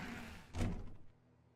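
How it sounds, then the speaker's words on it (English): One soft, muffled door thud from the video game The Stanley Parable, a single brief knock-like impact over a quiet room tone. "When Stanley came to a set of 2 open doors, he entered the door on his left"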